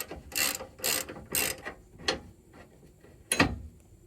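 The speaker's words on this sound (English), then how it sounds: "Just unscrew it, take the nut off." A ratchet wrench loosening the tow hook bolts on a Chevrolet Silverado, heard as several quick bursts of ratcheting clicks in a row, then a sharper metallic knock near the end, up close and with no talking.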